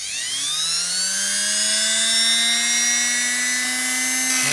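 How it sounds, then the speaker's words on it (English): A Dremel cutting wheel grinds a weld smooth on a 1971 Norton seat fitting, a sustained high-pitched whine that rises slightly in pitch, close and loud throughout. "I used the cutting tool on the end of my Dremel."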